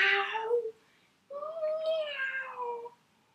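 A voice imitates a cat's meow twice, two drawn-out, pitched mews separated by a short pause, close and clear.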